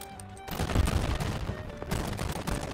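Rapid gunfire from the mobile battle royale shooter Warzone Mobile, dense continuous bursts of shots filling the whole stretch, loud and busy with no pauses.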